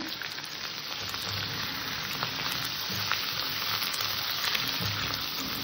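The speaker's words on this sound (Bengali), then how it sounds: "আবারও একটু কষে নেব যাতে আদাটা কষা হয়ে যায়, আদার কাঁচা গন্ধ না থাকে" A vegetable curry of taro and eggplant with ginger and green chilli sautés in a pan, giving a steady close sizzle with faint stirring clicks and scrapes throughout, and no voices.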